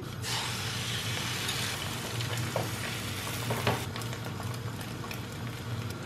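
Eggs with herbs frying in olive oil in a pan, a steady close sizzle with soft crackles and occasional scraping stir sounds, no talking.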